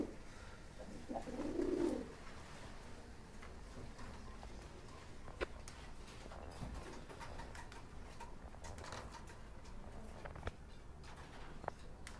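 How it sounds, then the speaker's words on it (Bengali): Pigeons of a fancy breed cooing softly at a loft or farm, one low warble rising early and then fading into quiet background rustle with only faint scattered bird sounds. "আসলে এগুলো খুব সুন্দর কোয়ালিটির কবুতর"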